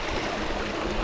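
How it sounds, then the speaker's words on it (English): A small waterfall in the Catskills rushes in a steady, close wash of falling and splashing water, brief and continuous with no voices. "we're going to that little mini waterfall over there"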